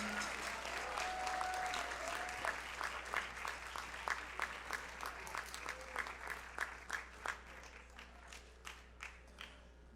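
An audience at a middle school spring concert applauds steadily, a dense patter of many hands clapping at moderate distance that gradually thins out toward the end.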